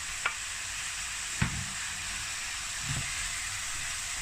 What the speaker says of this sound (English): now we're going to add the bacon. Just add this all in there.